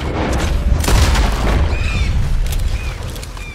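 Gunshot aimed at a komodo dragon in the game Red Dead Redemption 2, a heavy booming blast that rolls out over a loud, continuous game background, with faint whistling tones trailing afterward.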